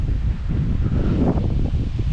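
Wind gusts at the Australian Botanic Garden in Sydney, a steady close roar of rumbling buffeting noise against the microphone, with leaves rustling, continuous throughout.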